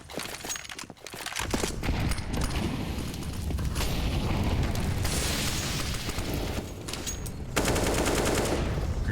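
Counter-Strike: Global Offensive match on the Inferno map with rapid automatic gunfire and grenade blasts layered densely, loud and continuous with bursts of heavier booms toward the end.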